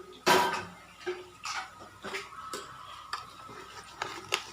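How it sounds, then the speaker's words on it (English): Jaggery powder tipped into overcooked rice in a pan, heard as faint, sparse scrapes and clinks of a spoon against the pan, a few quiet taps spread over several seconds. "now what we'll do is, we'll go ahead and add the jaggery powder"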